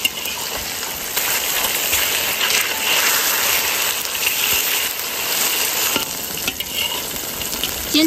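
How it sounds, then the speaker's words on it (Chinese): Tofu slices frying in hot, lightly salted oil in a pan give a steady, close sizzle and crackle that runs the whole time, with a few faint clicks and no speech. "再把豆腐切成一片一片的放进来煎"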